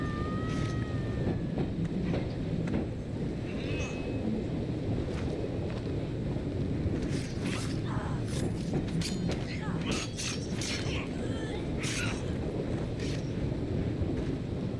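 A train ride in the Assassin's Creed Syndicate video game: a continuous rumbling, clattering rail ride with wind rush and occasional mechanical knocks, steady throughout.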